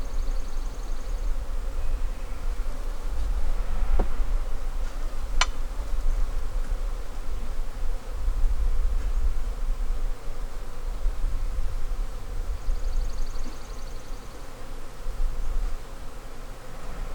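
Honeybees being added to a hive in a weak-hive boost, with a dense, constant close buzz of many bees that fills the whole stretch, with a couple of brief clicks.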